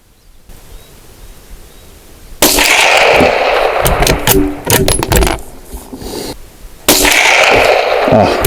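CCI Stinger .22 rounds fired from a classic .22 rifle at a row of targets, two sharp loud cracks several seconds apart, each followed by a brief ringing tail and some clinking handling noise between them.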